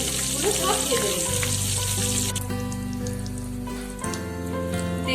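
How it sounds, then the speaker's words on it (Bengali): Eggplant slices fry in hot oil, a steady, close sizzle and crackle with a few faint stirring clinks and no talking. "এবার এইভাবে ভালো করে বেগুনগুলো সব ভেজে নেব।"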